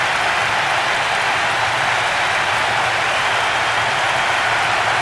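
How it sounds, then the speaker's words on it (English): Stadium crowd in PES 6 on PS2, Manchester United vs Chelsea, roaring after a goal: a loud, steady, dense wash of cheering and applause with no break. "The capacity crowd are enjoying the goal celebration."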